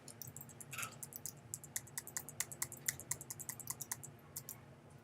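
Arrow keys being pressed on a computer keyboard, a quick irregular run of sharp, close plastic clicks, some in rapid bursts, with no talking.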